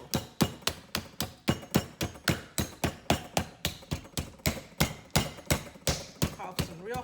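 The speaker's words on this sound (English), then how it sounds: "I'm gonna try to hammer it out a little bit so it'll be as even as possible." A meat mallet pounds a pork loin flat on a board for a stuffed roulade, over twenty steady, evenly spaced loud thuds in quick succession, close and alone.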